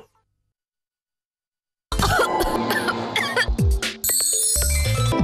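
Several harsh, loud coughs, some with throat-clearing rasp, burst out after about two seconds of silence in a cough syrup advertisement, closely miked and dense, with other ad sounds mixed in.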